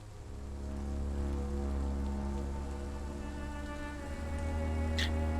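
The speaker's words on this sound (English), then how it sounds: "all you have is rain and silence" Rain falling over a London street at night, a steady, even wash of droplets with a low constant hum underneath and a brief bright splash near the end, with no voices.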